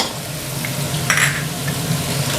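Garlic and chili frying in hot oil for pork holy basil stir-fry, a steady close sizzle with a faint clink of a utensil midway.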